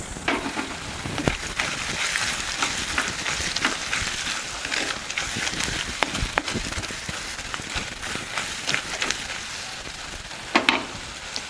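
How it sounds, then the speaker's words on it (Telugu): Curry leaves frying in hot oil with ginger-garlic paste in a pan for a tomato sesame kurma, giving a steady, dense sizzle with scattered crackles and pops that run the whole time without talk. "ఇప్పుడు కరివేపాకు వేసుకుంటున్నాను."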